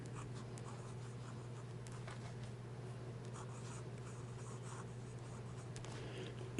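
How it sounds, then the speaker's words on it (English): Fountain pen with a 1.5 stub nib and Pilot Konpeki ink writing on paper, soft continuous scratchy strokes close up and quiet over a low steady hum, with no talking. "Now we'll do some writing."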